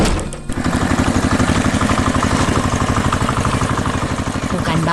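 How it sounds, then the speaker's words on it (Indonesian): Red farm tractor engine in a 3D animated village scene, a steady chugging idle with rapid regular pulses, loud and close, running continuously after a brief dip at the start. "Wah, lihat traktor merah itu datang."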